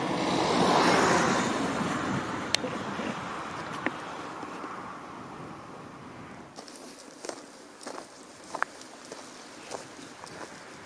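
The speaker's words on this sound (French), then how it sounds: "On entend les voitures là, qui passent." Steady broadband road rumble of passing cars swells and fades, followed by quieter ambience with scattered light clicks and rustles nearby.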